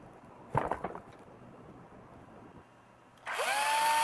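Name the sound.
cordless drill running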